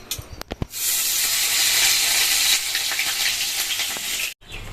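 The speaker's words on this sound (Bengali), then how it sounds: "এখানটায় দেখো দুটো ডিম একসাথে করে ভাজছি" Loud, steady sizzling of two eggs frying together in a hot pan, starting after a few sharp clicks and cutting off briefly near the end.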